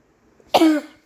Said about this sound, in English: Sorry, I cough a lot.